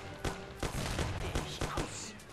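Shotgun blasts in the video game Mafia, several heavy booms in quick irregular succession over about two seconds, loud and dense with little pause between shots.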